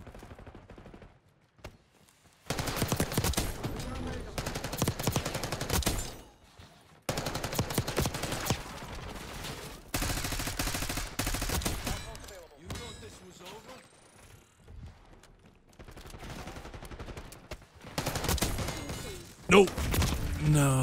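Bursts of SMG fire in the shooter game Black Ops 6 rattle in long, rapid volleys separated by short quiet gaps, loud and close. A player talks intermittently between and over the shooting.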